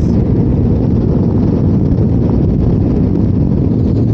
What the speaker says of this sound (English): With this kind of headwind